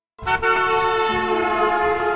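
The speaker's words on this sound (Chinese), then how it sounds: "你看到我的时候，按下那个喇叭多摁几下" A single loud car horn blares close by on a highway, held steady for about two seconds without a break.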